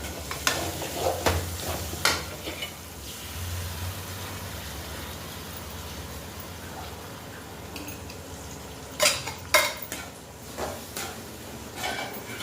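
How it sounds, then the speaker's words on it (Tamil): A ground paste of tomato, onion, ginger and garlic sautéing in a pan, with a steady low sizzle under repeated sharp scraping and stirring clatters from a spoon, loud and close. "அது வரைக்கும் வந்து நல்லா வதக்கி விட்டுக்கலாம்"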